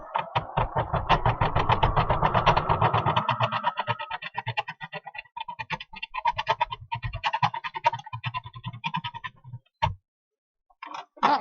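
A freshly cleaned sewing machine stitches white lace for a snowflake design, its rapid mechanical ticking loud and busy at first, then settling into a lighter rhythmic clatter before a short pause and a brief restart.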